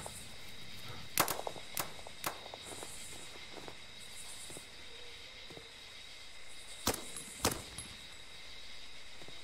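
Sparse, sharp gunshots from the Roblox war game Blackhawk Rescue Mission, scattered single cracks and short pairs over a quiet, faintly buzzing background.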